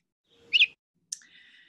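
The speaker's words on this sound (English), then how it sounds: "So this is the southwestern willow flycatcher" A southwestern willow flycatcher calls in riparian cottonwood and willow habitat along the San Pedro River: a short, sharp two-part call, then a brighter chirp trailing into a thin buzzy note, clear and isolated against quiet.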